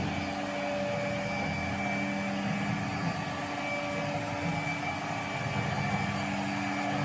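A CNC router with a rotary axis and 2.2 kW spindle motor runs with a steady, continuous mechanical whine and hum, unchanging in level throughout.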